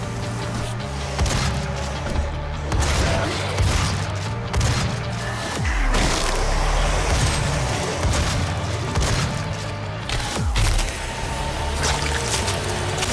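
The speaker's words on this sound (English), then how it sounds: "That's the other secondary fire for the shotgun, just a 3-round burst." Shotgun three-round burst secondary fire in DOOM (2016), heard amid dense, continuous game combat noise with repeated sharp blasts and booms throughout.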